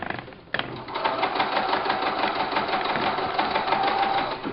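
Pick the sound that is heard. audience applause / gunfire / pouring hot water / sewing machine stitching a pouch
sewing machine stitching a pouch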